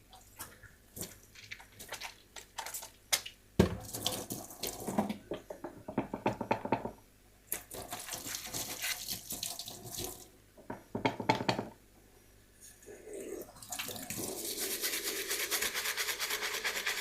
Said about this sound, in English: Follow that with some hand wash,